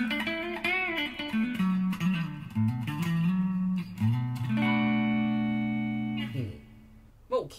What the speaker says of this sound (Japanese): もちろん歪みもしっかりしてますし、洒落たカッティングというか、こう抜けのいいカッティング